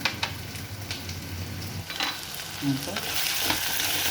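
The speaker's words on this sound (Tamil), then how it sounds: "பூண்டும், தேங்காய், கருவேப்பிலை இது மூணும் இந்த அளவுக்கு வதங்கினா போதுமானதை" Garlic, grated coconut and curry leaves sauté in a hot pan for a brinjal gravy. A close, continuous sizzle and crackle is broken by the scrape and clatter of stirring, and it grows brighter toward the end.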